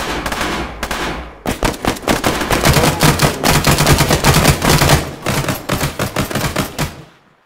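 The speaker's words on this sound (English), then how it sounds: "Hey Zest, your gun sounds amazing." Loud, close automatic gunfire from the ArmA 3 video game during a large-scale co-op battle, with dense rapid bursts and short pauses between volleys, continuous for several seconds without talk.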